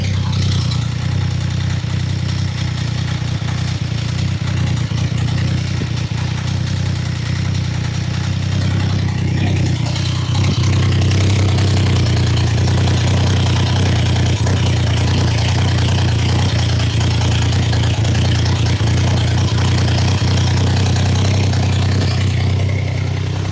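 A T150 motorcycle engine idles on its first start with a deep, low rumble, running continuously and loud up close, its tone shifting slightly partway through.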